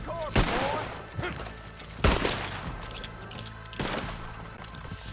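Red Dead Redemption 2 gunfight with three loud gunshot blasts spaced about two seconds apart, each ringing out over a busy background of game ambience and scattered smaller pops.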